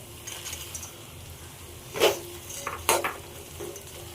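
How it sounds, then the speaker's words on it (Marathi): Mixed farsan is tossed into masala frying in oil, giving a low sizzle broken by two sharp clatters of a spoon against the pan and softer scraping strokes of stirring. "आता आपण फरसाण टाकून घेऊ।"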